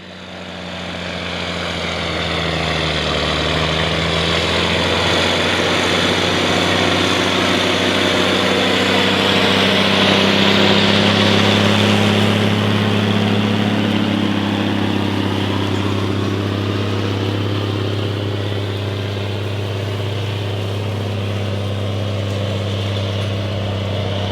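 A steady, heavy engine drone with a low rumble holds throughout, rising slightly midway like machinery working under load, with no voices: a tractor pulling a Case IH 875 Ecolo Tiger disc ripper during fall tillage in a field.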